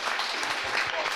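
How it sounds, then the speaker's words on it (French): Brief burst of steady audience applause for the speakers at the RESTART 2024 conference on elite sport, a dense even patter of hands at moderate level with faint voices underneath. "Vos applaudissements pour nos intervenants."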